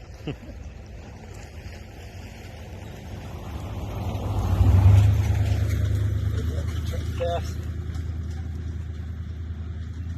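A truck passes on a road beside a shooting range, its engine rumble swelling from a low drone to a peak about midway, then slowly fading while staying audible in the background.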